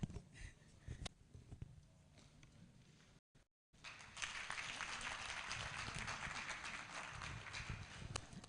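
Applause from an audience at a formal ceremony honouring a justice, faint patter of clapping that briefly cuts out before swelling into fuller, steady clapping.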